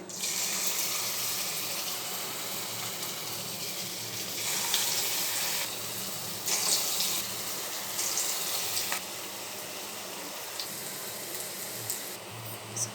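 Veg Manchurian balls frying in hot oil, a close, continuous bubbling sizzle with small crackles and steady intensity, no speech over it.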